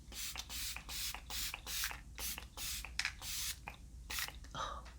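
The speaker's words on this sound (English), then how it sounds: "So I'm going to use the e.l.f. Microfine Stay All Night Setting Mist." e.l.f. Microfine Stay All Night Setting Mist spray bottle spritzing repeatedly, a quick series of close, soft, airy hisses in an even rhythm with short gaps between.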